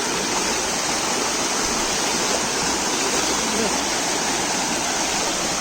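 Rain-swollen stream rushing in the Konkan countryside, a loud, dense, unbroken roar of flowing water heard close by with no voices over it.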